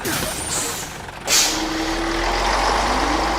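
A bus hisses loudly with its air brakes, a sharp release of air over a rumbling idling engine, close and continuous with a low drone that swells toward the end.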